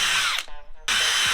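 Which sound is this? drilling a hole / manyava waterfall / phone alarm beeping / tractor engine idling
drilling a hole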